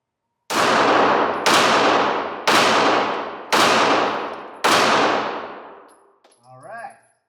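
A Glock 43 pistol fires five loud, close shots at a target in an even, fairly quick rhythm, each report ringing off before the next, followed by faint clatter as the shooting stops.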